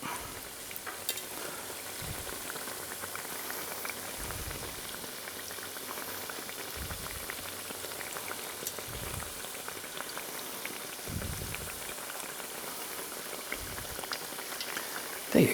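Churros fry in hot oil with a steady bubbling hiss and occasional louder pops and spatters, close up, without any talking.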